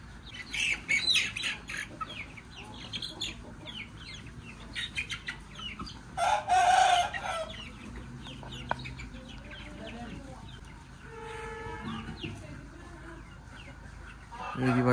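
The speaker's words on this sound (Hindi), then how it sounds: "ये सबसे छोटे चूजे हैं।" White Shamo chicks peep and adult chickens cluck and squawk in a yard, intermittent close calls and high chirps against quiet background, with someone talking briefly among them.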